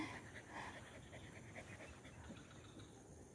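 A dog pants quickly and steadily at close range in an outdoor rice-field area, a soft rhythmic huffing that carries on quietly without a break.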